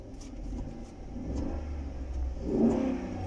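A car engine with a loss of torque and logged catalyst codes P0420 and P0430 rumbles at idle, then swells into a rev as the accelerator is pressed, a moderate mid-pitched rise near the end with no talk.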